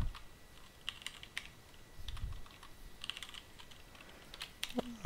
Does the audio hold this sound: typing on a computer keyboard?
yes